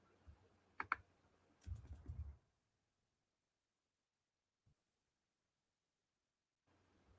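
Computer keyboard keys click faintly, first a couple of isolated taps, then a short rapid flurry of typing, followed by near silence with one stray tap.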